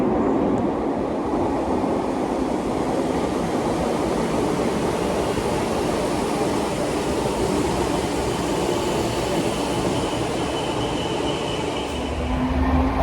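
A Merseyrail electric train runs through an underground tunnel in Liverpool, giving a loud, steady, continuous roar with rumbling wheels and no letup for the whole stretch.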